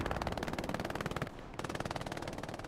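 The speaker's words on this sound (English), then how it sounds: "TJ on top of the roof with the MG42." Rapid sustained bursts of MG42 machine-gun fire from a rooftop in a Hell Let Loose 49v49 match, loud and close with a dense staccato rhythm and only a brief gap midway.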